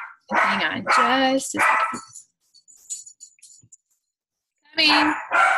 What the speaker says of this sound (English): That's my dog. She's very upset that we have visitors.